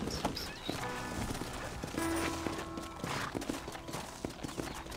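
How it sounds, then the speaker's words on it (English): Horse hooves galloping in the Red Dead Redemption video game, a steady rapid clip-clop under game music and ambience, moderately loud and continuous, with no talk. "I have mounted the horse."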